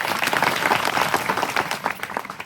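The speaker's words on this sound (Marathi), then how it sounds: "डबल सत्कार करतो, टाळी वाजवतो." An audience at a religious discourse claps together, a dense burst of applause that thins out toward the end.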